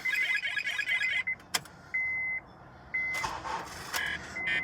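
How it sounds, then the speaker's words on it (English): A car that won't start, though its lights come on, acts like it has a dead battery: a burst of rapid clicking under a warning chime, then sharp clunks and a series of short, repeated electronic beeps. "It wants to start, but then it acts like it's a dead battery."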